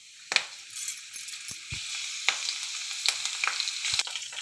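Bhringraj leaves fry in homemade coconut oil in a kadai, a steady bright sizzle with scattered crackles and a few sharp metallic clinks from stirring.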